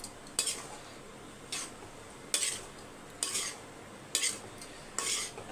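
Vegetables seasoned with pepper and cumin powder being stirred in a pan, six sharp scraping clinks of a metal spoon at roughly regular intervals over a faint background, close and quiet, no talking.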